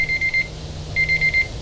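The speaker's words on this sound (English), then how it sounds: "Timer's about to go." A timer alarm goes off between coats of Rust-Oleum Peel Coat sprayed on car wheels: two loud bursts of rapid, evenly pulsed electronic beeps separated by a short pause, with no voices.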